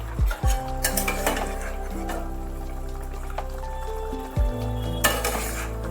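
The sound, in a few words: ground spice paste stirred into pan, frying patol (pointed gourd)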